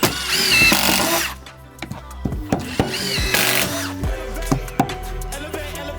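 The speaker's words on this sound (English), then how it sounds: "we are tacking it in place, setting our screws, and we're going back and plugging them as we go" A power drill drives screws into new deck boards on a large deck build, with a few short whirring bursts and knocks of wood handling up close, then scattered taps and thumps; no talking.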